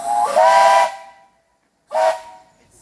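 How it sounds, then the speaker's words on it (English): A steam locomotive whistle is pulled twice: a long hissing chime blast, a pause, then a shorter blast, loud and close with no voices. "This is the whistle."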